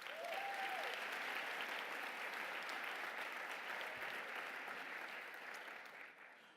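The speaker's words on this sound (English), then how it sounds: "So give them a round of applause." An audience at an MIT luncheon claps in sustained, even applause that carries on for several seconds before gradually tapering off near the end.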